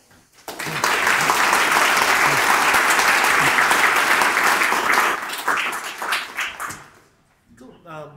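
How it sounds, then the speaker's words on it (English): A conference audience applauds after a file systems talk with loud, dense clapping that holds steady for several seconds and then tapers off. A voice speaks briefly at the end. "this one more round of applause"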